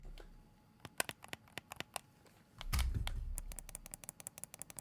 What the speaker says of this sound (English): they're just solid clicky buttons